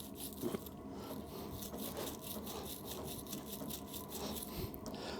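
A small stainless steel brush scrubs a metal plunger part from a dial test indicator during a strip and clean, giving a steady close rasping scrape that continues throughout with no talking.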